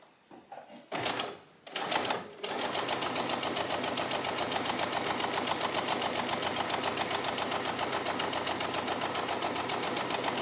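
A sewing machine stitches a fisheye dart on a shirt of thicker challis, with a few short bursts at first, then a fast, steady mechanical chatter running close and loud to the end.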